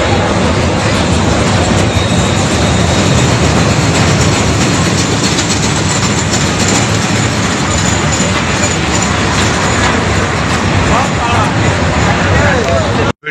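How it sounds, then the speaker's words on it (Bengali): At the Baruipur Milan Mela fairground, a dragon train ride passes with a loud, continuous rumble and rattling clatter, and a crowd murmurs underneath. "ড্রাগন ট্রেনও বসেছে এবছর, ওপার দিয়ে আসছে"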